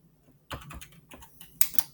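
Fingers tap on a computer keyboard in quick irregular bursts of clicks, close and fairly quiet, with a brief pause before a few sharper final keystrokes.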